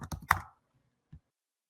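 Fingers type on a computer keyboard, giving a quick burst of four or five close, crisp key clicks, then a pause and one last soft tap.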